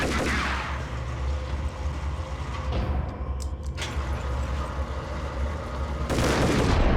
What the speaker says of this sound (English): Oh yeah, a shotgun.